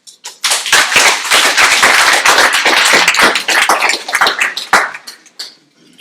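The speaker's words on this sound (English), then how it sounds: "Thank you for that applause." Audience applause following a talk, a dense wash of clapping from a crowd that starts abruptly, holds steady and loud for several seconds, then thins into scattered claps and fades at the end.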